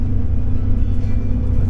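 Low, steady engine rumble heard from inside a moving bus in Bali, loud and continuous with no talking.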